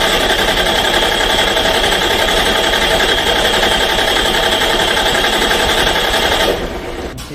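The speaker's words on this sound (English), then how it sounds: "Now we'll put the fuel relay so we can fire up the engine. We'll try to crank again." A diesel generator engine cranks during load testing, giving a loud, dense, rapid mechanical chatter that holds steady for several seconds and then abruptly drops away to a low hum.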